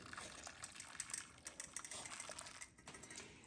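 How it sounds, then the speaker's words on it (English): Boiling water pouring into a pan of Jell-O powder on a stovetop, a steady splashing gush of liquid heard up close with no talk. "put my boiling water right in that pan with the Jell-O"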